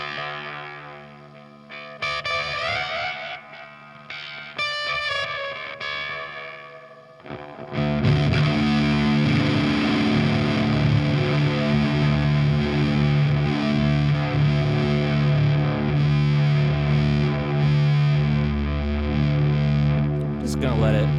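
An electric guitar runs through a Fuzzrocious Croak pedal, giving a buzzy, ring-modulator-like distortion: choppy, stuttering notes at first, then a loud, sustained, thick distorted drone with metallic overtones.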